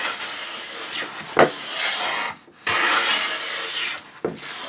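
A Lie-Nielsen hand plane, its sole lubricated with camellia oil, shaves along a wooden board in two long, smooth rasping strokes. Each stroke begins with a sharp attack and ends in a brief pause, and the sound is close and clear.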